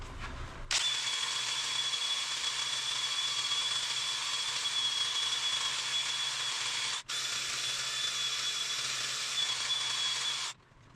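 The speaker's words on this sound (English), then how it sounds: "use my drill to buff all this off" A power drill with a buffing pad whirs steadily at high speed buffing wood, with a hissing, whining tone, running continuously with one brief pause before stopping.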